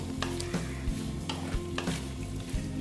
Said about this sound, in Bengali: এখন আমি আলুগুলো দিয়ে দিচ্ছি। আলুগুলো দিয়ে ভালো মতন কষিয়ে নেব।